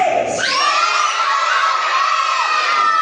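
A crowd of children at a church kids' service shouts loudly and continuously, a sustained high-pitched chorus of voices calling out together, close and filling the room for the whole stretch.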